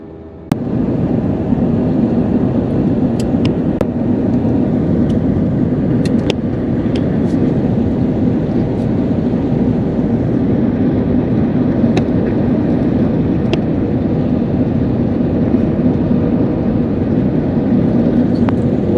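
Steady, loud broadband roar of a passenger jet cabin during descent and landing, a constant engine and airflow rumble with a few faint clicks and knocks.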